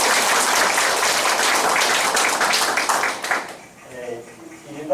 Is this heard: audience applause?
yes